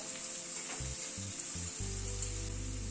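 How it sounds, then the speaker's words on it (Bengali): Onions fry over a medium flame in a pan, a soft, steady sizzle that runs throughout, joined by a few low thuds and then a sustained low hum. "পেঁয়াজটাকে এই মিনিট 2 মতো একটু ফ্রাই করে নিলাম"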